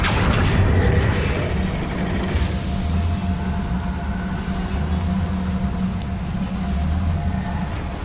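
Fire spell cast in Hogwarts Legacy, a loud continuous roaring rumble with a booming burst at the start, steady game sound with no talk over it.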